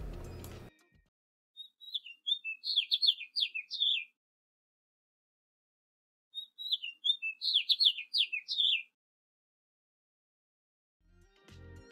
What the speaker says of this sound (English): when birds come to your bird bath, bird house, or bird feeder, they actually make noises